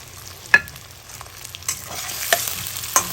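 Masala sizzling gently in oil in a pan for fish head lentil dal, a soft continuous fry broken by a few sharp stirring scrapes, close and without talk.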